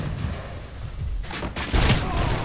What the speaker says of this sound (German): jetzt schießen die ja wirklich